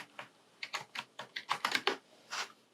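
Computer keyboard typing a colour value into illustration software, a short burst of about a dozen light, close key clicks in an uneven rhythm, with no voice.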